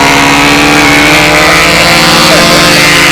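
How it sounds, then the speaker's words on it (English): A model airplane engine fitted with a PA muffler runs steadily at a flying circle, a loud, continuous buzzing drone with a smooth, slightly wavering pitch and no pauses. "Hear the motor run. Noel has a PA with a muffler."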